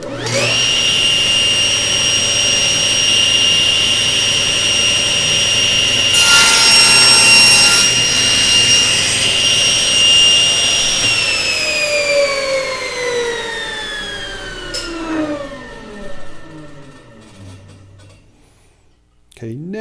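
A table saw with a miter sled spins up to a loud, steady whine, cuts through wood with a brief harsher burst partway through, then winds down with a falling pitch until it stops; no one talks.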